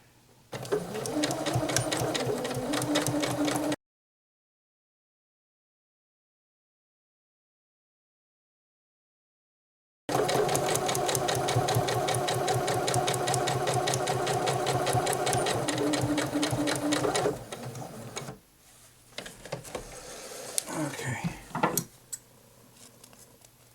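A Janome 8077 sewing machine runs in fast, rattling bursts of stitching while back stitching, stopping dead for a long silent gap before starting again, then giving a few shorter runs and clicks near the end.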